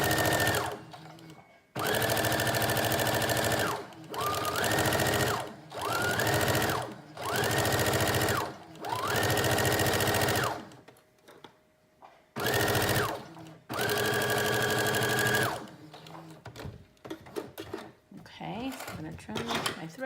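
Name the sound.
sewing machine stitching furry fabric teddy bear jacket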